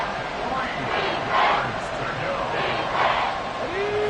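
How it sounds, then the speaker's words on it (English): A packed stadium crowd at Arrowhead roars steadily during an American football game, a dense, loud wall of cheering with swells and a few rising shouts, while a commentator talks over it. "The Arrowhead crowd in full roar."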